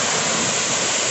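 Water pours steadily down Olichi waterfall in Thrissur, Kerala, as a dense, continuous roar of rushing, splashing water that stays loud and close throughout.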